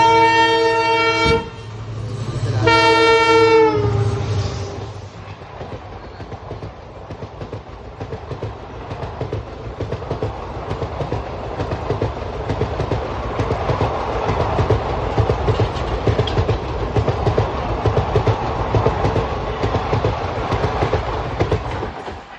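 A train rolls past a Konkan railway crossing near Ratnagiri, sounding two horn blasts before the steady clatter of wagons builds and carries on loud and close for the rest of the stretch.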